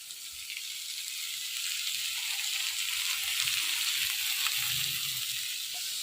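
Bottle gourd pieces frying in a pan after salt and turmeric are added, giving a steady, moderately loud sizzle with faint stirring that holds throughout.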